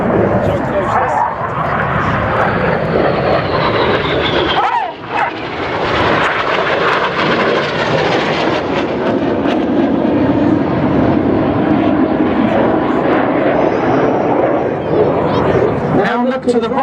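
RAF Red Arrows jets performing at an air show display, flying an opposition barrel roll; a loud, continuous roar of jet engines passing overhead dominates, with a commentator talking over it.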